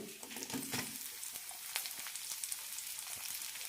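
Cumin seeds and a chopped onion sizzle in a hot pan for ash gourd chutney, a steady fry with scattered crackles and a few stirring scrapes, no one talking.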